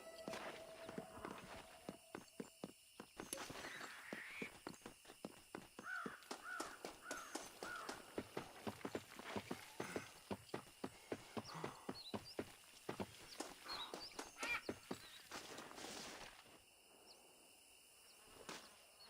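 Horse hooves clip-clop nearer in the Red Dead Redemption game, a quick run of close, rhythmic hoofbeats over game ambience that fades into quiet at the end.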